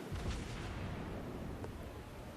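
Naval guns booming in World of Warships Blitz as a ship unloads a salvo on an enemy Phoenix cruiser; a dense, rumbling barrage of heavy low blasts fills the clip at steady loudness.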